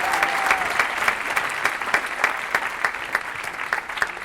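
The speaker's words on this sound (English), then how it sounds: "can we give a big round of applause to Mike Sheehan for his help part this evening?" An audience at an evening celebration in the Vogue theatre in Vancouver applauds Mike Sheehan, steady close clapping throughout with a few sharper claps cutting through.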